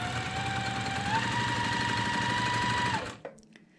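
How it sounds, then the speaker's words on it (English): A sewing machine sews quilt block pieces with a steady, close, rapid whirring stitch for about three seconds, then stops abruptly and leaves faint handling sounds. "let's head on over to the sewing machine"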